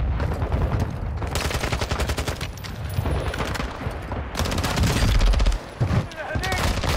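Bursts of rapid gunfire from bot enemies in Call of Duty DMZ crackle loudly and almost without pause, automatic rattles overlapping with single shots throughout.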